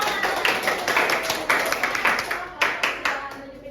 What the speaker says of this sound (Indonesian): Oke, tepuk tangan dulu. Kita semua.